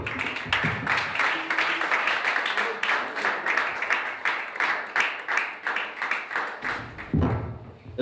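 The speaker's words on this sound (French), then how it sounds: "Est-ce qu'on peut encore donner une acclamation?" Church congregation applauding and acclaiming during a service, sustained rhythmic clapping with some thuds and voices mixed in, fading then swelling briefly at the end.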